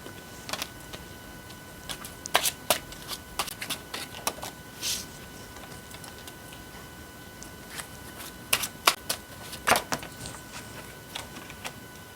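Tarot cards are shuffled in scattered quick bursts of soft riffling and snapping, faint and close, with quiet gaps between.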